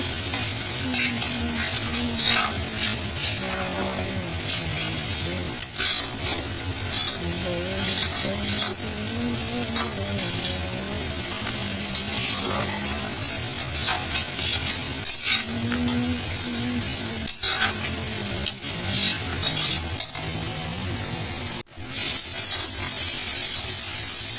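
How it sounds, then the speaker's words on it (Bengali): Cumin, coriander, chilli and turmeric powders are stirred for a soybean and taro curry, giving a continuous scraping and sizzling in the pan with rhythmic spoon strokes, close and loud, with no talk. "এখন আমি খুব ভালো করে মিক্স করে দেবো"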